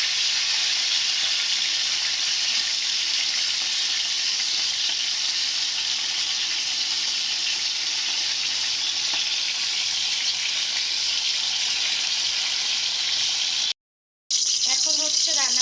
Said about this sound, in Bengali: এখন হচ্ছে মাছগুলো উল্টে নিচ্ছি।